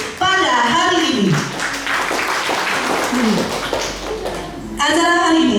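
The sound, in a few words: audience applause for everyone attending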